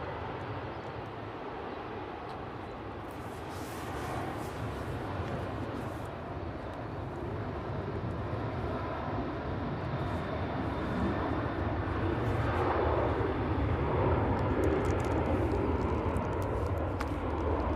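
A Jet2 airliner sits lined up on the runway at Manchester, its engines giving a steady, broad roar that swells gradually, heard from a distance with breezy outdoor ambience.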